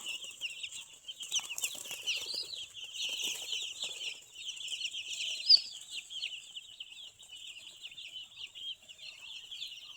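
Chicks in a poultry shed give a constant high-pitched chorus of peeping and cheeping, many birds at once at moderate distance, with faint rustling in the background.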